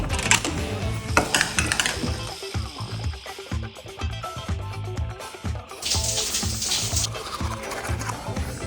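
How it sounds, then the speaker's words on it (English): A shower running in the American Airlines Flagship Lounge at the airport, with steady spraying water and clinking, splashing sounds near at hand, mixed with a musical background throughout. "this is one of the best airport showers I've ever had"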